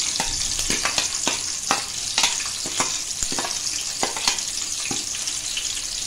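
Green chillies frying in hot oil with cumin seeds and curry leaves for a quick leftover-chapati chivda, a steady close crackling sizzle broken by repeated sharp spattering pops and spoon scrapes.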